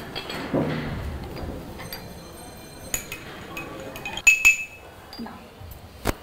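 A spoon clinks against a cup as tea is served with sugar, giving a few light, sharp chinks scattered among quiet room sounds and faint voices.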